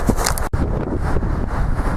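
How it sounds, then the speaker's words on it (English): Steady roaring wind buffets the microphone throughout, a continuous broadband rush with one brief dropout midway. "Pretty windy out here."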